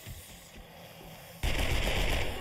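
Gunfire from 7 Days to Die, starting after a quieter stretch and then holding as a loud, dense, sustained burst of rapid shots, close and continuous, with no one speaking.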